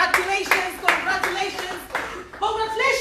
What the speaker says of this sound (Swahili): Nyosha mkono wako juu, kupigie makofi.